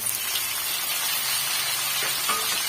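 Onions and garlic sauté in a pan with a steady, close sizzle and frying hiss, making chutney with three kinds of leaves; no one speaks.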